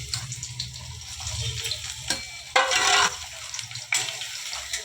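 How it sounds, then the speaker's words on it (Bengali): Sliced onions sizzle in hot oil in a pan while being stirred with a spatula, a steady close frying hiss broken by louder bursts of scraping and crackle, with no talking. "তেলটা দেখো গরম হয়ে গেছে। আমি এবার পেঁয়াজগুলো দিয়ে দেবো।"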